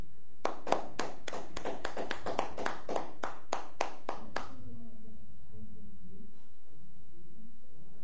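Church congregation clapping in rhythm, a series of sharp hand claps at a brisk steady beat for about four seconds, then stopping abruptly, leaving a quiet room with faint low murmuring.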